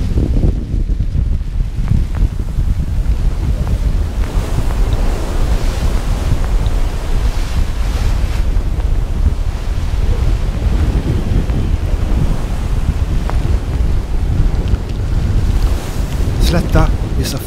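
Westerly gale-force wind roars across the open sea off a shallow, shoal-strewn coastline, with heavy ocean waves surging and crashing continuously and loud wind buffeting the microphone throughout.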